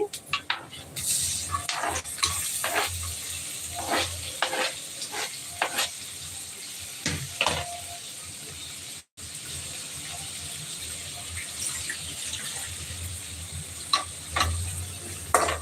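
Tomatoes stirred into softened onions sautéing in a pan for a squid stir-fry, a close sizzle with irregular scraping and stirring clatters of a spoon against the pan, plus a brief dropout midway.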